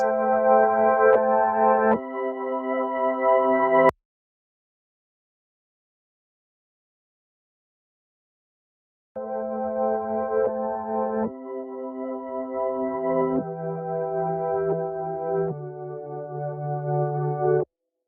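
Reversed synth chords in an Amapiano beat, pitched up an octave, swell in sustained stacked tones, cut off by a few seconds of silence, then return as a shifting chord progression.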